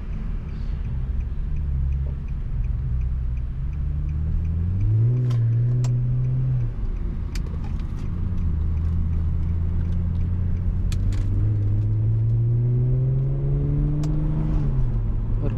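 Car fitted with a Speed Culture Studios custom exhaust driving through city streets, a steady low engine drone that rises and falls with gentle acceleration and gear changes, close and continuous with no talking.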